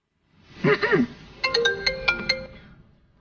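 A ringtone plays on a phone while an outgoing call waits to be answered: a short warbling phrase, then a run of bright, evenly spaced electronic tones, close and clear with no talk.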